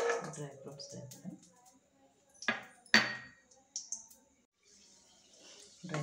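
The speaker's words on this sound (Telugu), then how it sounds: "ముందుగా ఒక బాండీ పెట్టి డ్రై ఫ్రూట్స్ ముందు వేసుకుందాం" A pan set on a stove with dry fruits dropped in for a bottle gourd halwa: a few sharp metallic clinks and knocks, some rattling, under a voice speaking.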